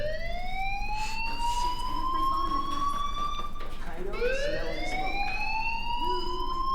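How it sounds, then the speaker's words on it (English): A fire alarm rings in the Life is Strange video game, a steady wailing electronic tone that rises and falls in sweeps and plays continuously at moderate volume. "Hey, do you hear that fire alarm?"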